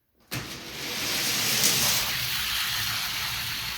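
Several Hot Wheels die-cast toy cars race down a track together, a sudden start followed by a steady, close rolling whir that holds at an even level for a few seconds with no talking.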